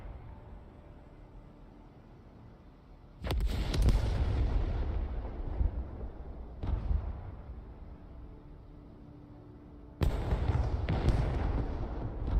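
A video game military battle: three heavy blasts of gunfire and explosions strike at intervals, each followed by a sustained, booming roar of combat that fades slowly.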